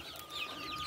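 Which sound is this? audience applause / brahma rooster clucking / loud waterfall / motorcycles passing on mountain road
brahma rooster clucking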